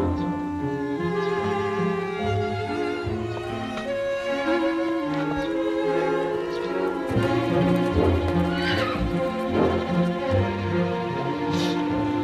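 A horse neighing with hooves clip-clopping in a Thai drama scene, a loud, continuous, dense layer of sound with no gaps.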